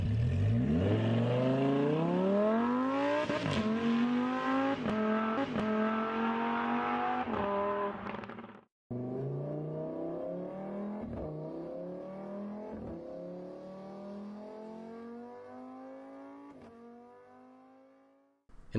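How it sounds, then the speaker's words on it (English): A car driving in the video game Minecraft, its engine whine rising in pitch as it accelerates, then a short break before a second run climbing again, with faint knocks along the way. "I'm driving my car at a nonlinear velocity"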